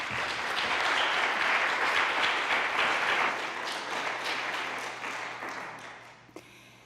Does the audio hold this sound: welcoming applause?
yes